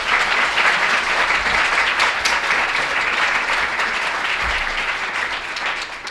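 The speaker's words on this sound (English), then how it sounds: "please join me in a round of applause for yet another terrific panel" A conference audience applauds a panel on judicial elections, steady dense clapping from many hands lasting about six seconds with no speech over it, tapering slightly toward the end.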